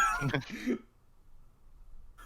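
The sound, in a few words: cough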